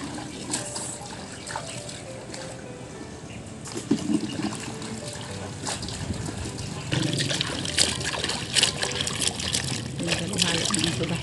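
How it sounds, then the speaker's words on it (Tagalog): Tap water trickles and splashes steadily as vegetables are rinsed under it, growing a little fuller and busier partway through. "ito yung ating mga gulay. Hugasan muna natin."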